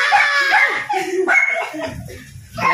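A pet dog at home gives a few sharp yips and barks, mixed with excited voices and giggling nearby.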